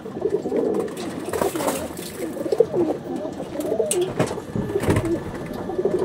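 Andhra and Madrasi breeder pigeons coo in soft, throaty repeated phrases close by, a low murmuring chorus with a few flutters and no talking.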